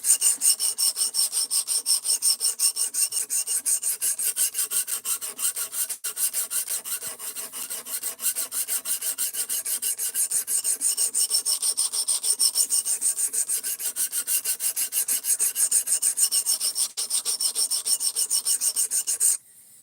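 A knife blade rasps steadily against a Precision Adjust sharpener stone in repeated even strokes, close and fairly loud, continuing without pause and with no voices.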